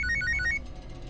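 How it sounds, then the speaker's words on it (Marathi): A mobile phone ringtone chirps in short repeated electronic bursts indoors in an office before a client meeting, clear and close for about half a second, then cut off. "त्यांच्या समोर तुमचे फोन वाजणार आहेत का?"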